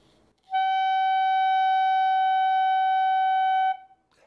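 A clarinet holds one steady, sustained tone for about three seconds, clean and even in loudness, close and alone, with a faint breath before and after.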